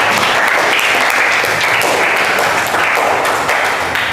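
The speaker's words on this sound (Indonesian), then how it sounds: "tepuk tangan juga untuk Balkis" A classroom of students applauds in a biology lesson, loud, dense, continuous clapping close by for several seconds with no talk over it.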